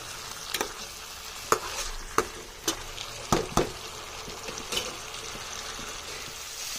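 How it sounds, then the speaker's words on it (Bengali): Fried eggs get stirred through curry masala in a pan, giving a low frying sizzle punctuated by about half a dozen sharp spatula scrapes and knocks at an irregular pace, close up and without speech. "ভেজে রাখা ডিমগুলো দেওয়ার পরে কিছুক্ষণ আমি এইভাবে নেড়ে চেড়ে নেব খুব ভালোভাবে।"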